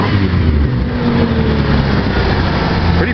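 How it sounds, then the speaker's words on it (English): A Ford Aerostar's freshly installed engine gives a quick rev, a steady close mechanical drone with a rising surge near the end, loud and without talk. "So, a little quick rev of the motor here."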